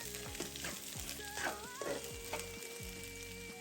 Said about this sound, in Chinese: 桂皮、八角、香葉、花椒等香料含有香氣油脂，需要用小火慢慢逼出香味。